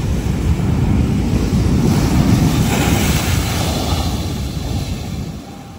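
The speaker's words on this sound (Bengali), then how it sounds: "জাস্ট ঢেউটা দেখলে মানে এইখানে লিটারালি আলাদাই সমুদ্রের গর্জন।" Sea waves roar continuously on the shore at Dhanushkodi, a steady broad surf rush with wind buffeting the microphone, loud and close throughout with no voices.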